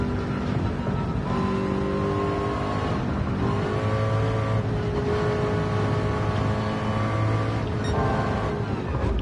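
Porsche race car engine in a VR Le Mans racing game, a loud continuous engine roar rising and falling in pitch through gear changes and revving, with no talk.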